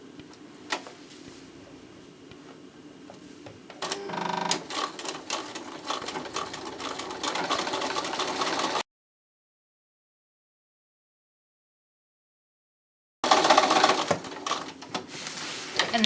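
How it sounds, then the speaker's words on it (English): A sewing machine runs a straight stitch along a newspaper hem for a gift bag, a close, fast mechanical chatter that starts softly, grows steadier, stops for a few silent seconds, then resumes. "we're just going to do a nice straight stitch to make our hem here"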